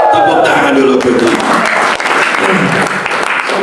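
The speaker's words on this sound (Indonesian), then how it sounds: "Tepuk tangan dulu, betul." An audience at a church fasting prayer session at Gunung Salak, Bogor, bursts into loud, dense applause that carries on steadily, with some crowd voices mixed in.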